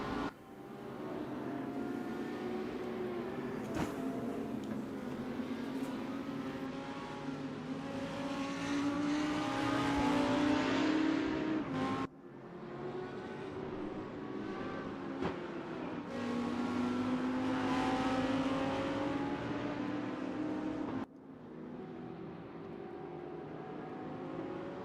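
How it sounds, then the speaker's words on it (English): A DTM race car engine in a RaceRoom replay drones steadily as it passes, with sustained high revs and several sharp cuts between segments, loud and alone. "Let's listen to the engine note."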